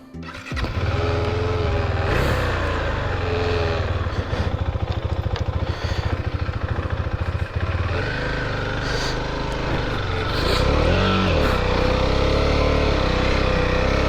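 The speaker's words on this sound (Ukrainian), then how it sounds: "зараз трошечки проїдемось і розповім вам, як цей мотоцикл взагалі на пісочку себе веде" A Husqvarna Svartpilen 401 motorcycle engine runs loud and close throughout while riding on sand, revving and rising in pitch as it pulls away, with a rough, uneven throttle.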